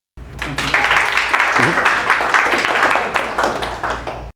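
Audience applause rises sharply and continues as sustained clapping from a crowd at a business talk, then thins toward the end; a voice speaks briefly over it.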